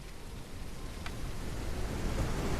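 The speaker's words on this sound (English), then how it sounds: "We got light rain, rain, and then we got the thunderstorm." A thunderstorm with rain in the video game Echoes of Extinction, heard as a steady, dense hiss of rainfall over a low, rolling rumble that swells gradually.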